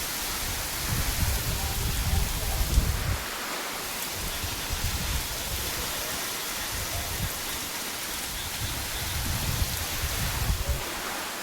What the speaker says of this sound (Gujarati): તો ભાઈ આવો વરસાદ પડે છે પવન આવે છે